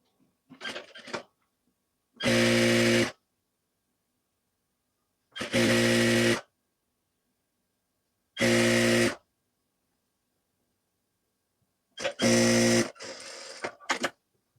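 Sewing machine stitching a simple blouse in four short bursts of loud mechanical whirring, separated by silent pauses, with faint handling sounds between.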